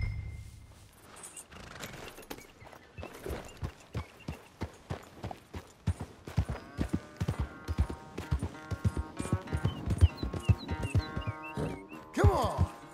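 Horse hooves clip-clop in a quickening rhythm in Red Dead Redemption 2, starting slow and building to a steady gallop, with a brief whinny near the end; game-like, no voices.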